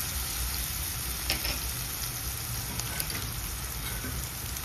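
Garlic, ginger and green chilli paste fries in hot tempering oil, a dense, even sizzle that keeps up close and steady, with a few faint stirring clicks and no talking.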